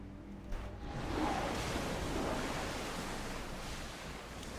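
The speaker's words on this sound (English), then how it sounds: "We're in one heck of a storm." Stormy ocean waves and wind roar around a sailing ship in Assassin's Creed Odyssey, a steady dense wash of surf and gusts that swells early and then holds on without any talk.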